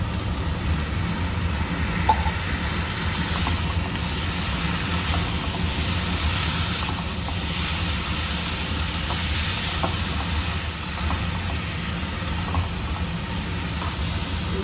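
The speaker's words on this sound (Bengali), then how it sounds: "কিছুক্ষণ আমি এটা ভাজতে থাকবো এটা এইভাবে নেড়ে নেড়ে আমি ভালো করে এটাকে ভেজে নিব" A drumstick curry with ground tomato fries and is stirred in a pan, giving a continuous, even sizzle with faint scraping that stays steady and close throughout.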